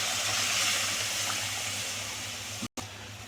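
A small amount of water is poured into a cooking pan where sugar and chopped ingredients are cooking for an oily pointed gourd dish, a steady splashing hiss that stops abruptly near the end.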